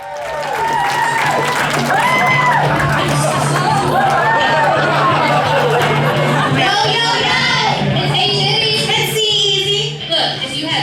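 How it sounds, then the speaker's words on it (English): Wedding guests at a reception applaud and cheer loudly in a steady, dense wash of clapping and crowd noise, with chatter and voices mixed throughout. "Another round of applause, please."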